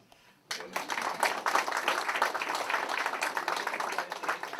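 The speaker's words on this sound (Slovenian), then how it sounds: "Potem pa še en aplavz" Audience applause at a 25th anniversary ceremony breaks out abruptly after a quiet moment, then continues as steady, dense clapping from a crowd at a moderate distance.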